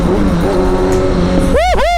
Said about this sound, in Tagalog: So this is ZX inline 4 636cc.